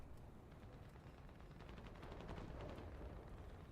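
Rapid tank cannon fire in a video game with a fast reload, a dense, steady barrage of booming shots rolling continuously under a noisy low rumble, no voices.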